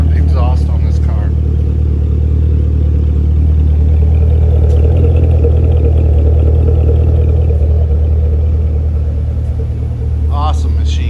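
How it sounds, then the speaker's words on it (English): Low exhaust rumble from a red 2014 Chevrolet Camaro ZL1 convertible with an automatic transmission, a steady deep idle drone lasting about ten seconds, loud and close, with brief bits of background chatter at the start and end. "Love the sound of the exhaust on this car."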